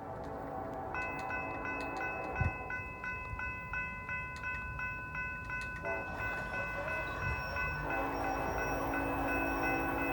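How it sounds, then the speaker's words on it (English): A southbound CSX freight train approaches along a super-elevated curve, its steady rumble and wheel noise rising with distant horn tones, a couple of sharp knocks in the mix. "We got another train coming from that way right there. It's a southbound."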